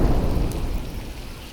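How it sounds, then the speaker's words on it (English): Rain falling steadily with a low thunder rumble rolling underneath, loud and close, a continuous wash of noise through the whole stretch with no voices. "Now for some thunder."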